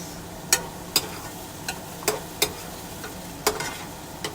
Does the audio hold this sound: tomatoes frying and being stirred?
yes